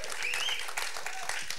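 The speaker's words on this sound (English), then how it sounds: "let's give a huge round of applause" An audience at a tech event claps in a brief, dense burst of applause heard close, with a voice over it.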